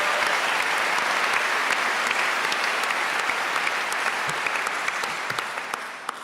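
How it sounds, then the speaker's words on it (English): Audience applause in a concert hall for the symphony orchestra and conductor at the final concerto round of the 2025 Van Cliburn International Piano Competition: dense, steady clapping throughout that eases slightly at the end. "Yes, you can clap for the symphony and the chef."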